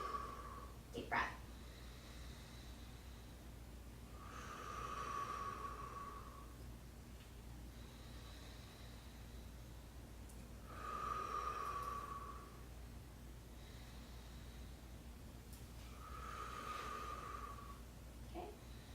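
A patient breathing deeply through the chest during auscultation, three slow, faint, breathy inhalations evenly spaced over a low steady hum, heard closely as if through a stethoscope, with no voices.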